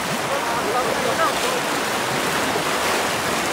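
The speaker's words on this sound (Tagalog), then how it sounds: "Lakas ng agos oh." A strong river current rushes in a loud, steady broadband roar right beside a net-casting fishing spot, with a few brief voices calling out over the flowing water.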